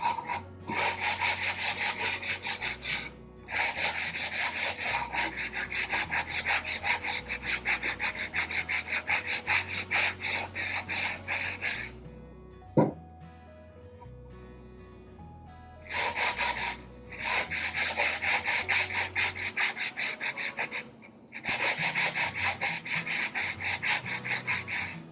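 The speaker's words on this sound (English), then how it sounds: "just a piece of sandpaper. So start by smoothing out mine" A piece of sandpaper rubs by hand over a wooden board to smooth rough patches, giving steady, close, rhythmic back-and-forth scratching in long runs broken by brief pauses.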